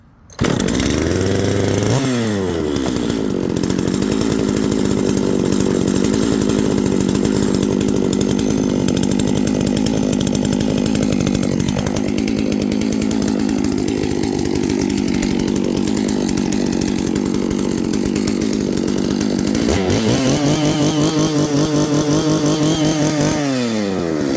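A Husqvarna 660 chainsaw engine roars steadily at close range for the whole stretch, briefly dipping and revving back up near the end.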